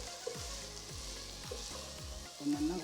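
Mixed vegetables frying in a pan for vegetable rice, a soft steady sizzle with a few scraping stirs and clinks of the utensil, fairly quiet and close.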